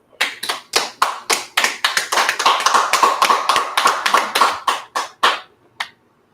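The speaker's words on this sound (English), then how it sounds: "Most high Christ, let's go ahead and clap it up." A class claps together in sharp, rhythmic unison bursts, about twenty-five claps in quick succession that loosen and space out toward the end before stopping.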